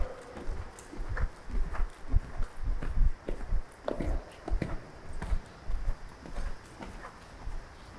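A ridden horse's hooves clip-clop in an uneven rhythm during a riding lesson, fairly close and moderately loud, with faint birdsong and occasional background sounds.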